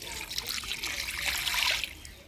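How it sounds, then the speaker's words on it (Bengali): Hot water runs and splashes over a slippery rita fish being washed in a home kitchen, a continuous close hissing flow that swells and fades over a couple of seconds. "এবার আমি গরম জল দিয়ে ধুয়ে নেব"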